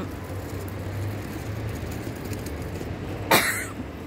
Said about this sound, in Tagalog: talaga inuubo ko.